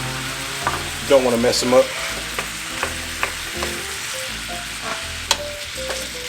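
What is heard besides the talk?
sausage browning in a pan, stirred with a wooden spoon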